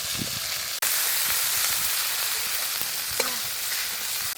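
Cumin paste, chili powder and salt sizzle and fry in a pan, a steady close hiss broken by a short gap near the start and occasional stirring scrapes.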